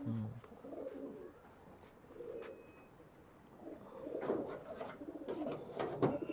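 Several old-breed pigeons cooing nearby in low, repeated throaty calls, growing busier and louder toward the end.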